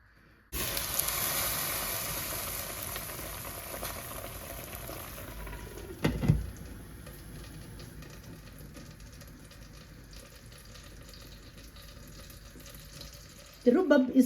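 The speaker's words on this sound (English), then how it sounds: "Let it boil for 15 minutes until the rhubarb is tender." A pot of rhubarb boiling and simmering, a steady close bubbling hiss with a brief clatter partway through and a louder burst of activity at the end, no voices.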